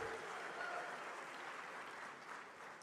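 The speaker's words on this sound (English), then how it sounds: "Please give him a warm round of applause." Audience at an Afreximbank annual meeting applauds Didier Drogba with steady, fairly faint clapping from a large hall, continuous for a few seconds.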